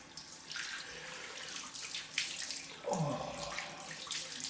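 Tap water running into a sink for a cold rinse after a straight-razor shave, a steady close splashing flow with shifting water sounds and a brief exclamation from a voice.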